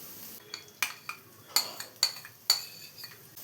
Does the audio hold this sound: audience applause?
no